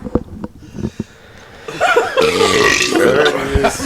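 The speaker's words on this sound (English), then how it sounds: "When that belch comes." One loud, drawn-out belch, close to the mic, following a few short clicks and breaths, rumbling for about two seconds.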